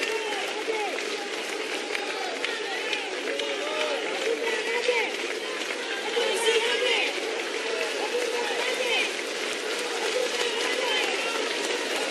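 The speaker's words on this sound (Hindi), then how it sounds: "आपसे निवेदन है कि तालियों की गड़गड़ाहट के साथ में आदरणीय का स्वागत करें" A large crowd at an outdoor political rally in Jaipur gives a long, thunderous round of applause in welcome, dense clapping with cheering voices mixed in, steady and sustained.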